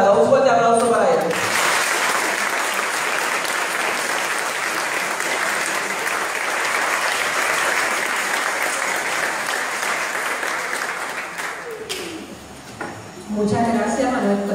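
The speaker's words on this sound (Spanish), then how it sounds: "Un fuerte aplauso para él." A crowd at a chapel gathering for the visit of the San Antonio de Padua statue breaks into strong, sustained applause lasting about ten seconds before it fades, with a voice speaking briefly before and after.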